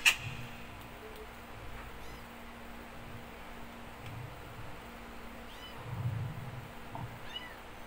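A cat meows several times, soft and somewhat distant, over a quiet low hum during a live stream.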